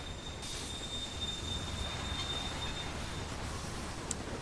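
Push-pull train running in Railway Empire on a Mexico map, a steady rolling rumble with a long high wheel squeal drawn across most of the stretch and a brief bright clank near the end, no talking.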